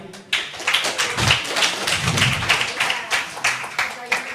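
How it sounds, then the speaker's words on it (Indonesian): An audience at an Indonesian religious debate event claps together in a sustained burst of applause, the dense patter of many hands filling the room at close range. "Kita tepuk tangan sekali lagi."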